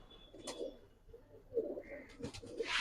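Silver beji pigeons give soft, low cooing calls several times in quick succession, close by, with faint background murmur.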